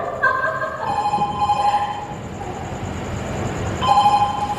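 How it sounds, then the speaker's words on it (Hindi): A phone rings in two bursts of electronic trills against a noisy, bustling background. "ये घंटी आपकी बज रही है? आई मीन आपके फोन की।"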